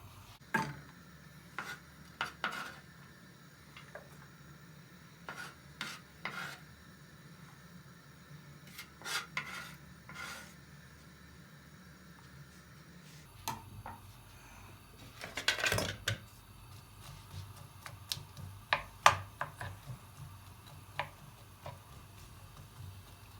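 A knife taps out garlic cloves on a cutting board beside a pan of frying onions, with sparse, light, irregular chops, quiet and close, separated by pauses.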